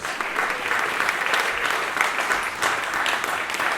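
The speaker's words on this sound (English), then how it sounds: "Give yourselves a big round of applause." Audience applause at a live storytelling event about the Lake Champlain region, a dense, steady wash of many hands clapping at fairly close range for several seconds, with no talking over it.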